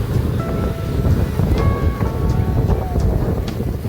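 Sea waves at Shivrajpur Beach roar in a loud, continuous wash mixed with wind rumble and the distant chatter of a crowd.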